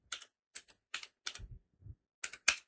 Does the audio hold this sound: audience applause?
no